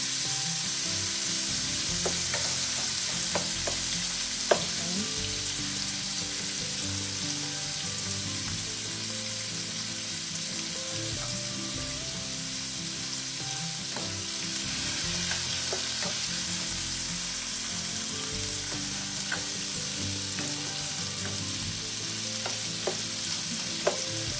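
Shrimp and chicken browning in a hot frying pan for Spanish yellow rice, giving a steady loud sizzle with scattered clicks and stirring scrapes throughout, no voices.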